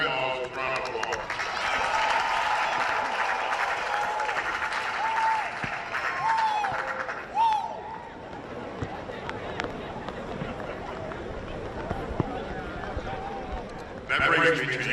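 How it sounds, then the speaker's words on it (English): A large outdoor commencement audience at South Carolina State University claps and cheers for mothers and grandmothers, sustained applause with voices mixed in that fades after about seven seconds, leaving crowd murmur and a brief final burst. "let's give our mothers and grandmas a round of applause"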